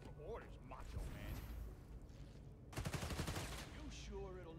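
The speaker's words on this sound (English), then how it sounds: "I didn't hear the gunfire until I turned the corner." A burst of rapid gunfire from the Spider-Man: Miles Morales video game rattles out in the second half, following game voices and mechanical sounds, fairly quiet overall.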